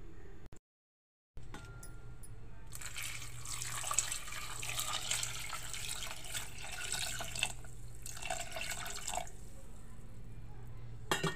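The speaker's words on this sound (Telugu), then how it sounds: "కొంచెం వాటర్ పోస్తాను." Water pours steadily into a pot of cooking dal with tamarind and chilli powder, a continuous splashing pour after a brief silent gap, close by and moderately loud, tapering off in two bursts near the end.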